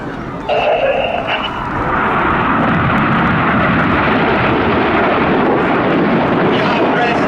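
Red Arrows RAF jets in a synchro display at an air festival, a loud continuous roar of jet engines rising at the start and sustained throughout, with faint announcer talk partly audible beneath.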